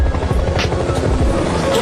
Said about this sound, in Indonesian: di tengah jalan sebuah helikopter datang